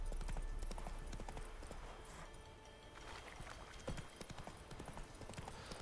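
Horse hooves clip-clop at a steady trot in The Witcher 3, a continuous rhythmic patter of footfalls, moderately close and quiet, with no talk over it.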